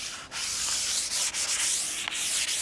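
A pergola surface is given a quick going-over with sandpaper before coating, making a steady, close, dry rasping scrub that runs continuously with a few brief pauses between strokes.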